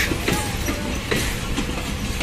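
A train rolling slowly through Parbatipur railway junction, with a steady rumble and rhythmic wheel clacks over the rails, close and fairly loud.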